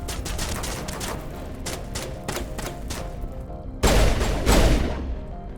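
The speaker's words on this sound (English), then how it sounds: "this pistol is very powerful." Powerful pistol fire in the video game Mass Effect: a dense run of rapid shots and impacts amid combat noise, with a heavy booming burst near the end, loud and close, no talk.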